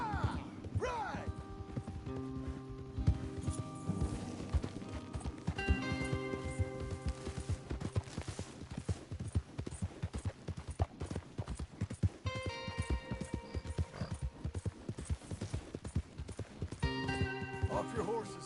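Horses in Red Dead Redemption 2 clopping and galloping at close range, irregular hoof beats with occasional whinnies and rustle, while voices speak intermittently over the riding.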